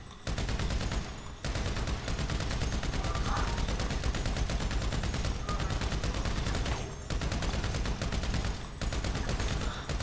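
Rapid automatic gunfire in the video game GTA 5, dense and continuous bursts of shots filling the clip, broken by a few short pauses.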